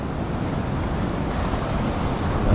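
Atlantic Ocean surf washing onto a hard-packed Florida beach, a steady broadband roar of breaking waves mixed with wind buffeting the microphone, fairly loud and continuous with no talking.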